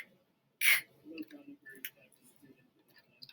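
A voice imitates a clicking camera with one sharp, close click. Quieter mouth sounds and breathy voice noises follow.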